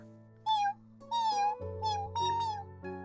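Cartoon kitten meowing repeatedly, about five clear, close, plaintive meows in a row over a soft sustained musical background, with no talk.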